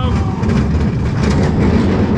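Train running along a rail line near Barry Island pleasure park, a steady loud rumble with rhythmic clatter throughout, close by.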